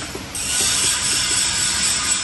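Knocking from a broken steering rack bush at the front left of a Proton Satria Neo: soft, repeated low knocks at a fairly steady rhythm under a loud, steady hiss of background noise, with no talking.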